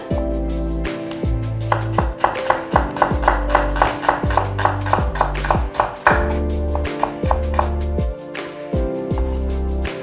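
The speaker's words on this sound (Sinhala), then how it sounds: "ලූණු ගෙඩියත් හීනියට කපා ගන්න" A knife chops an onion finely on a board in a fast, even series of sharp, close thuds, about two per second, with no talking.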